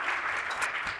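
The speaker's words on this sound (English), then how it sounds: "Let's give Craig a round of applause." An audience at an SXSW EDU 2025 health-tech session applauding a speaker named Craig, a dense, continuous wash of many clapping hands, fairly loud and sustained with no talk over it.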